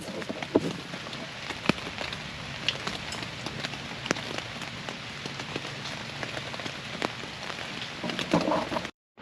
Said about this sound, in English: let's just listen to it rain